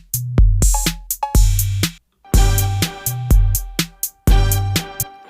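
A sampled tuned note repeats through a delay over simple 808 drums and a bass line, a loud looping electronic pattern of punchy low hits and bright echoing tones, with no talking.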